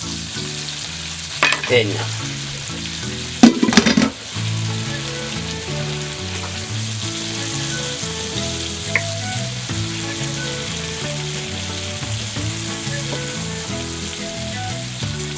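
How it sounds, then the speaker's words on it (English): Bite-sized chunks of flour-dusted zebra meat sear in a hot pan with a steady, loud sizzle, sharp crackling bursts near the start, and a near, constant frying hiss. "Now remember, I'm not cooking this, I'm just sealing it off."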